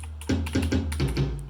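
Several quick keystrokes on a computer keyboard being used as MIDI input, close and crisp clicks in an uneven rhythm with no talking.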